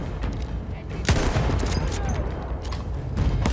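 Gunfire in the video game Battlefield 1, repeated rapid shots and bursts crackling over a low rumble, with someone talking over the fighting.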